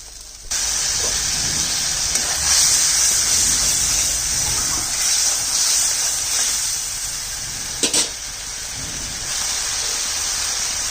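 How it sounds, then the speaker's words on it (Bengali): Water poured into poppy seed paste cooking in a pan, raising a loud, steady hiss of steam and bubbling that holds for several seconds, with a brief clink partway through. "আর একটু জল দিয়ে দিচ্ছি।"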